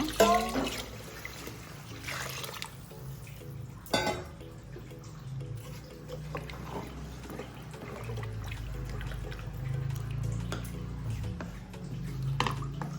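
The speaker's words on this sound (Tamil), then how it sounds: "இந்த ஸ்டேஜில் இப்போ தண்ணி சேர்த்துக்கிறேன் நான்" Water pours and trickles into a pot while cooking chicken biryani, a soft steady stream with a few clinks, fairly quiet and without speech.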